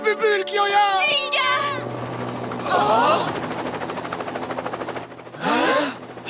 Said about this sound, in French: Encore cet hélicoptère!